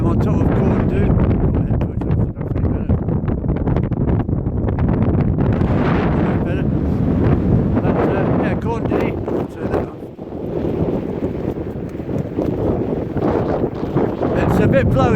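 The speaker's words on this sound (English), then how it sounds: "It's a bit blowy this morning at the moment." Strong morning wind on the summit of Corn Du in the Brecon Beacons buffets the microphone with a loud, continuous roar that swells and dips for the whole stretch.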